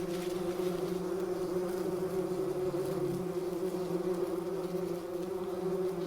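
Bumblebees buzz in a steady, close, unbroken drone that holds an even pitch throughout, with no voices.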